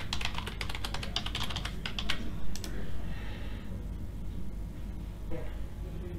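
Quick bursts of keystrokes on a computer keyboard as a new password is typed, clicking in rapid runs for a few seconds and then trailing off into quiet room noise.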